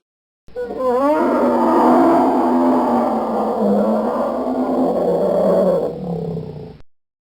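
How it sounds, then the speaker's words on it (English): A long, powerful roar of a large animal, starting with a rising bellow and sustained for several seconds before cutting off, loud and close. "to bear roars"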